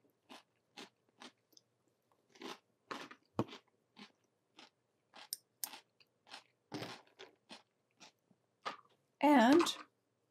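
Someone crunches and chews a cucumber up close, giving a string of separate crisp bites and chewing snaps spread over several seconds, ending in a short throaty cough-like sound.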